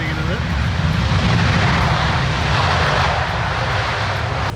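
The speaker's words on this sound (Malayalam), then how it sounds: "ഒരു സിംഗപ്പൂർ എയർലൈൻസിൻ്റെ വിമാനമാണ് ഇപ്പോൾ വന്ന് ലാൻഡ് ചെയ്തിരിക്കുന്നത്." A Singapore Airlines airliner lands with a loud, continuous jet engine roar that stays close and fills the whole moment, and a voice speaks underneath it.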